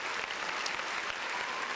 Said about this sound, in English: so round of applause for being a part of that.